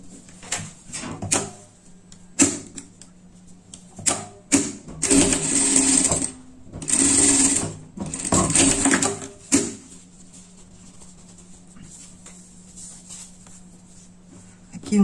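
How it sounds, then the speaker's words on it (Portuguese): A sewing machine stitches a seam on a dart in two short whirring bursts, with scattered clicks and fabric handling between and after them in a quiet room. "Vamos passar uma costura aqui, nessa pence aqui, tá?"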